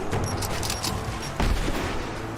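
Gunfire in the Rise of the Tomb Raider video game, a steady rattle of distant shots and low booms running continuously under a dense, noisy battle bed.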